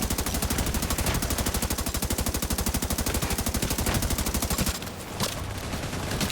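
An assault rifle in The Division 2 fires long, steady automatic bursts at a rapid, even rate, loud and close for nearly five seconds before the fire breaks off into scattered game sounds.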